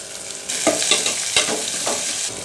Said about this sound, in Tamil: வெங்காயம் நல்லா வணங்கிடுச்சு தக்காளியை போட்டுக்கலாம்